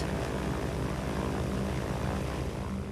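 Airplane in flight, a loud continuous engine roar with broad steady noise that holds evenly for a few seconds, with no voices.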